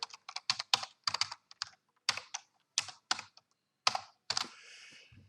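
Keys clatter on a computer keyboard in quick uneven bursts of crisp clicks while an employee ID is entered into a database form, with short pauses between words and nobody speaking.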